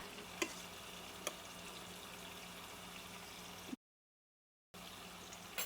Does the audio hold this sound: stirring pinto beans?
yes